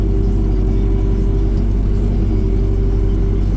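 A car pulls away with an ambulance in tow while evacuating a person with limited mobility. A steady, loud, close engine rumble with a low whir holds throughout, and there is no talk.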